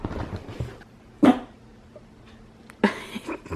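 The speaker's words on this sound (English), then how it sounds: "Pretty typical for a dog bark" Two short, sharp barks from a pet dog indoors, spaced about a second and a half apart, close and fairly loud with quiet room noise between them.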